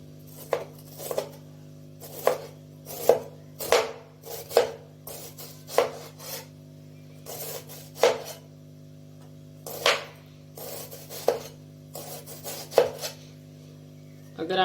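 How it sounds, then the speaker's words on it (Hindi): Onion being finely chopped with a knife on a board for aloo tikki, a steady run of sharp, close knife taps in quick clusters over a low constant background hum, no talking. "तो अब हम प्याज को भी बिल्कुल बारीक काटेंगे"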